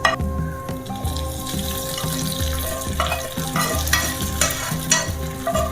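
Tempering sizzling into mango pulissery curry, a bright crackling sizzle with stirring and scraping in a home kitchen, steady and close, with a faint sustained tone underneath and no talking.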